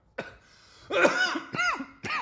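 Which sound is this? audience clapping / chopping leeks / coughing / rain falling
coughing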